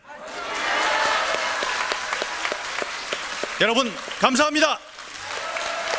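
A political rally audience applauds in a dense, sustained wash of clapping. Someone speaks briefly over it through a loud, echoing sound system, and the applause carries on after he stops.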